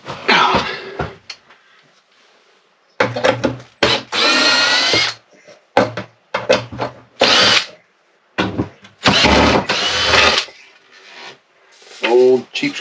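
A power drill drives screws in short repeated bursts of whirring, some long and some brief, with silent gaps between them while work goes on at an off-grid cabin. It is close and loud, with a cough and little talk.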